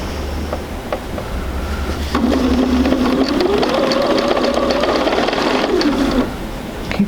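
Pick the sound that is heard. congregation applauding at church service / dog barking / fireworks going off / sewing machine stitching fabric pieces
sewing machine stitching fabric pieces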